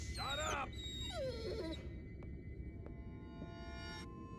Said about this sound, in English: I swear, that dog doesn't shut up!